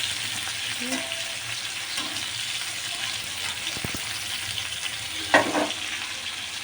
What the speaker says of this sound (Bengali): নুন দিয়ে আবার ভাজা হবে, ঠিক আছে? একটু ভাজা হোক, আরেকটু ভাজা হোক।